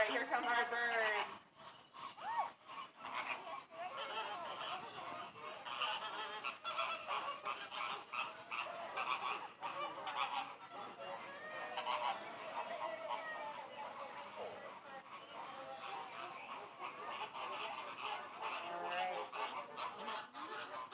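A flock of flamingos of two species at a zoo honks continuously, many overlapping nasal calls forming a loud, busy chorus that lasts throughout.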